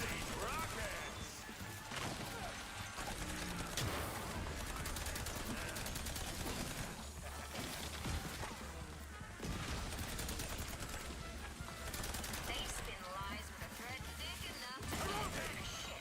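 Rocket launches and explosions in the game Mouse: P.I. For Hire, a dense, continuous barrage of blasts and gunfire with crashes, loud and steady throughout, with someone talking over it.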